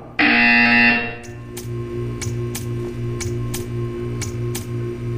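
A loud, harsh buzzer from Portal 2 sounds for about a second, then gives way to a steady hum with a regular ticking pulse.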